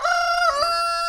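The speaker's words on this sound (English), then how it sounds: "Y'all know that roosters will crow in the middle of the night?" A rooster crows at night on a farm, one loud, close, drawn-out call with a bright harmonic tone that bends midway and holds steady to the end, with no voices over it.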